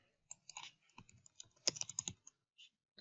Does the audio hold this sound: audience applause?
no